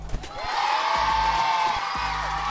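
An audience at a breakdance event in downtown Tours cheers and whoops to welcome breakdancer Sydney, a sustained crowd roar with a bright whistle-like tone riding over it.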